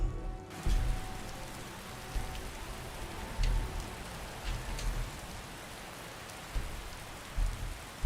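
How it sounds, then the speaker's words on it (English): Continuous rain in the video game Skyrim, an even hiss of falling drops with occasional low bumps and faint crackles scattered through, moderately quiet and steady with no voices. "Okay, apparently it's still raining."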